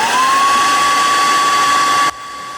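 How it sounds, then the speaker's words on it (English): A Conair hair dryer blows at close range onto a Rubik's Phantom Cube, a loud steady whooshing roar with a faint motor whine that holds, then drops suddenly to a quieter level near the end. "when I hit it with the hairdryer,"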